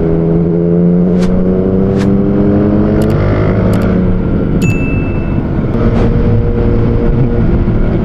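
KTM Duke 390 motorcycle riding through congested city traffic, its engine droning steadily with shifting revs and gear changes, close and loud throughout, with faint horn-like tones and passing vehicles mixed in.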